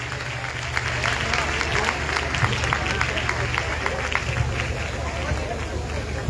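Audience at a church convention in Lahore applauding to welcome speakers to the stage, a dense, steady wash of clapping with crowd murmur underneath throughout.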